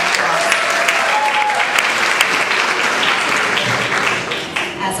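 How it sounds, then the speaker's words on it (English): Middle school students applauding themselves at an awards ceremony, a loud, dense, sustained burst of clapping that tapers slightly at the end, with no talking. "So give yourself another round of applause."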